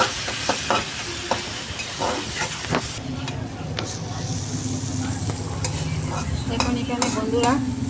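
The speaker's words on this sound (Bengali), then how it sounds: "এখন আবার নাড়াচাড়া করে নেব।" Food frying in a pan being stirred, loud continuous sizzle and hiss with repeated sharp scrapes and clatters of the spatula, a voice briefly audible partway through.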